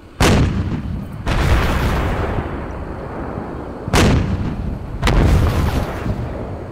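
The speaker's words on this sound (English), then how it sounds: "I'm going to go ahead and saturate that area with howitzer fire" Howitzer artillery fire in the war game Combat Mission Shock Force: four heavy booming blasts, the first isolated, then three more spaced a second or more apart, each followed by a long rolling rumble.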